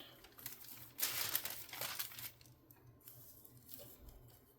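Wax paper crinkling and rustling as it is used to pour material back, loudest for about a second and a half, then trailing off into quieter scattered crackles.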